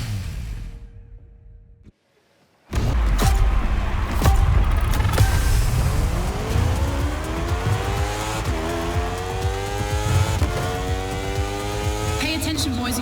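A car racing in a time attack event in The Crew Motorfest video game roars up after a brief quiet pause, its engine revving and climbing through gears loudly and close, with tire noise and shifting pitch sweeps.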